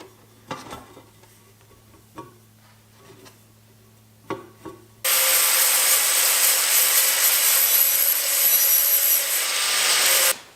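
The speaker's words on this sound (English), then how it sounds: "But now I gotta cut this second pipe for this pipe to fit into it." A metal exhaust pipe for a turbo LS Mustang gets cut: a few scattered knocks and handling clatters over a low hum, then a loud, steady abrasive grinding roar that runs for about five seconds before cutting off.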